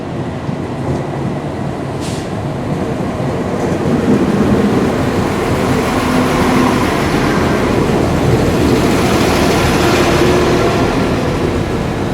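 An NIR Class 4000 diesel multiple unit, number 4013, rolls into a station with a sustained, loud rumble and rising engine drone, steady throughout with no talking.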